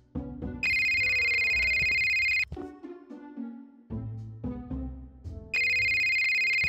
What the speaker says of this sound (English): I said when a phone suddenly starts ringing!